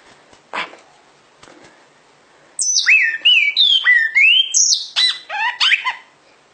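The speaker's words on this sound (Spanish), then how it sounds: "Que bonito, cardeal." A cardinal sings a run of bright, slurred whistled phrases, loud and close, after a few faint scattered chirps and a brief quiet stretch.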